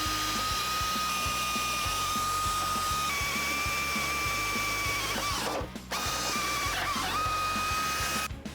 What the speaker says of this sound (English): I'm now going to drill a pilot hole in order to gain access with the 1/2-inch drill bit.